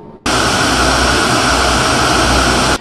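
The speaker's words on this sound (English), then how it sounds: "planes taxiing to their gates." Jet aircraft taxiing at Rogue Valley International Medford Airport give a loud, steady engine roar that starts abruptly, holds evenly for a couple of seconds and then cuts off, with no voices over it.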